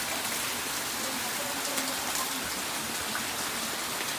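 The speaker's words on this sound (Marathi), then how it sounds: "काय पाऊस वारा एवढ्या जोरात आला ना" Heavy rain driven by strong wind pours down in a steady, dense hiss of drops striking surfaces, constant and fairly close, with no pauses across the stretch.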